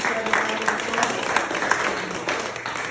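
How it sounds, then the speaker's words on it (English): An audience claps in sustained, dense applause that fills the room at an even level throughout, with a voice faintly audible beneath it. "Can you give these guys a round of applause?"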